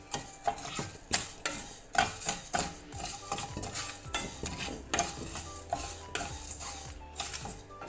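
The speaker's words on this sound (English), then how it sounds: "Keep frying like this until the galangal and kaffir lime leaf are dry." Rice frying in a pan with galangal and kaffir lime leaves, stirred constantly with a utensil scraping and clinking against the pan over a soft sizzle, close up with no talking.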